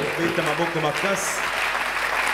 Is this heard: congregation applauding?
yes